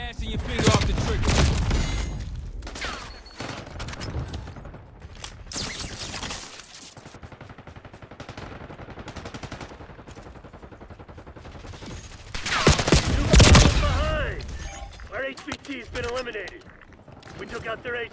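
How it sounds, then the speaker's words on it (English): Call of Duty firefight with bursts of automatic gunfire and single shots, loud and close, coming in clusters with quieter gaps and voices speaking in between. "HPT under fire. Repeat. HPT under fire."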